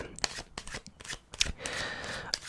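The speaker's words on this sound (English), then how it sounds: "giving the cards what we call an overhand shuffle" Playing cards get an overhand shuffle up close in a quiet ASMR card-magic setting, with crisp, irregular slaps and soft riffling bursts repeating over a few seconds.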